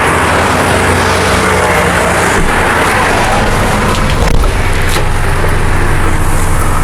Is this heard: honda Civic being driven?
yes